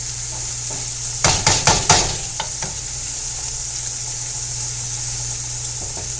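Onions and garlic sizzling in a pan while cooking shakshuka: a steady bright sizzle with a few quick scraping stirs near the start, then an even fry with a low hum underneath.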